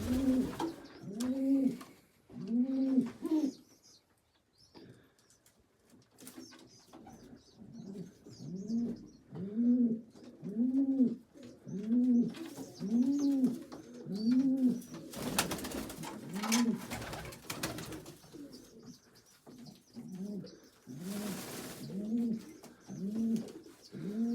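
Tippler pigeons sitting on eggs in a loft coo close by, in repeated rolling phrases with short pauses. Occasional rustles and brief bursts of noise break in.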